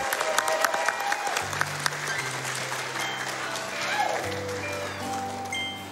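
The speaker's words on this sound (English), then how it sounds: "Let's get a round of applause for Shasta." Audience applause at a speedrun event: a loud burst of clapping from a crowd, sustained over several seconds, with a few cheers and background game music tones layered underneath.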